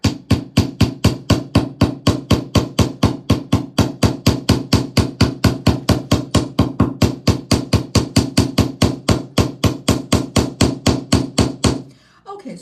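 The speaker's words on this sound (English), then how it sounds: "16 gauge wire is a bit soft. So I'm going to hammer it a little bit." Rapid, evenly spaced hammer blows on 16 gauge copper wire during wirework, loud and close, about four strikes per second in a long unbroken run before stopping.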